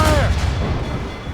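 Ship cannons fire in a naval battle in the video game Assassin's Creed Rogue, a loud booming blast near the start with a rumbling low tail, amid shouting voices and battle din.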